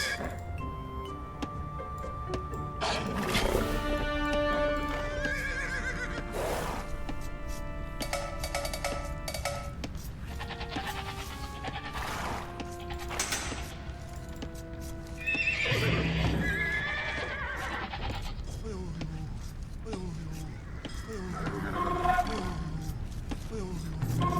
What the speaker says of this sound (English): Let's bring these horses back here.